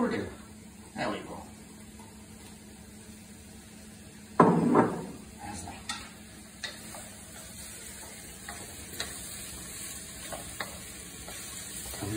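Garlic and mushrooms frying in oil in a pan, a soft steady sizzle with occasional clinks and stirring scrapes, a person talking over it.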